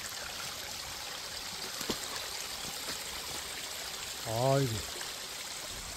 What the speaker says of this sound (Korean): 눈이 오니까 막 물도 졸졸졸졸 흐르네.